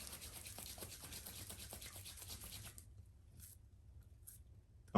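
Hair product rubbed between the palms makes a soft, close, steady scratchy friction for about three seconds, then stops into near silence.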